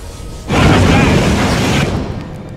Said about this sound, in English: Your men triggered an explosion with their flamer, detonating an Orc ammunition magazine.